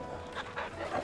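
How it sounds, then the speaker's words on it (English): A dog in the video game Final Fantasy XVI pants in quick, close breaths for about a second. "Can play with the dog."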